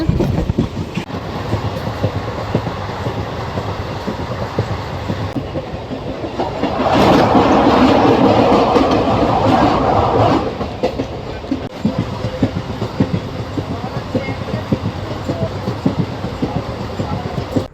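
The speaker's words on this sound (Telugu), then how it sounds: "మన ట్రైన్ వచ్చేసండి పాసలపూడి నుండి అయితే డిపార్ట్ అయిపోతుందండి" MEMU passenger train running on rails between Narasapur and Machilipatnam, a steady loud rumble with rhythmic clickety-clack of wheels over rail joints and a brief swell of louder rattling midway, with faint voices inside.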